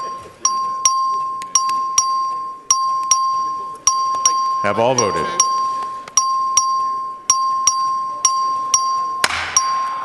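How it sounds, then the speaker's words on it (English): Voting bell in the Texas House chamber during a record vote on the 2018-2019 state budget bill, chiming in a steady repeated ding pattern throughout, loud and close, with brief talk and murmuring in the room beneath it. "The clerk, ring the bell."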